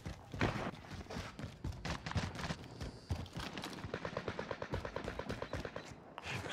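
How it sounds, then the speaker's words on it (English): Rapid automatic gunfire crackles through a battle royale video game firefight, bursts of shots and single cracks overlapping in a dense, continuous barrage, with a steadier rhythmic string of rounds toward the end. "Where the fuck am I getting shot from?"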